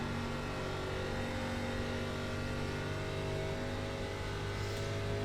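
A stock car in the iRacing ARCA Menards Series at Pocono gives a loud, steady engine drone under load, with no breaks throughout, mid-race while handling gets tight in the corners.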